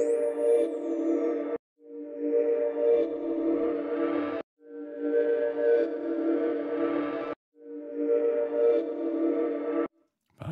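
Ableton's Erosion effect in sine mode on a synth sound: steady, buzzy tonal phrases repeating in four blocks with short silent gaps, clean and without added hiss, with a thin high tone at the very start.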